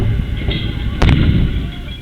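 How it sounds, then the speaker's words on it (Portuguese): Blasts go off during the invasion of the Planalto Palace, heard as one sharp, loud crack followed by a rumbling tail over a dense, noisy crowd background. "a câmera com áudio mostra novas explosões"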